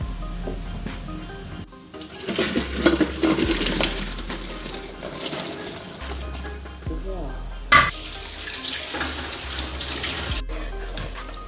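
Water pours and splashes steadily as it is drained from a cooking pot, with a brief clink of metal midway, a close, continuous wet rushing sound.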